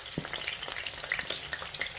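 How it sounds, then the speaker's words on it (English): Tomatoes hit hot oil in a pan beside sausages, crackling and spitting in a lively, close sizzle with quick irregular pops and no talking over it. "Now our oil that is on fire, I'm putting the tomatoes before the oil is purely ready."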